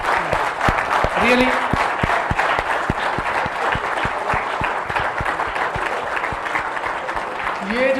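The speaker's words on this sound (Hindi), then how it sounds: "आप लोगों से गुजारिश करता हूं एक बार जोरदार तालियां बजाकर" Seminar audience claps heartily through the whole stretch, loud dense applause with a few sharp individual claps standing out, while someone speaks briefly over it.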